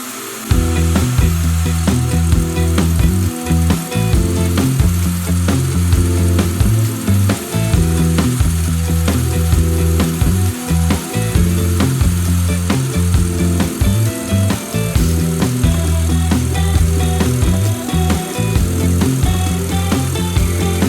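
A small machine with a diamond engraver disc cuts a glass tube, giving a loud close continuous whirring grind with a wavering motor pitch that holds steady for the whole stretch, with no talking.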